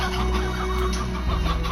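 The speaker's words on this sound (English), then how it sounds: "How many other stone hens?" Stone hens in the video game Slime Rancher cluck in short repeated bursts, close and clear over a low steady background hum.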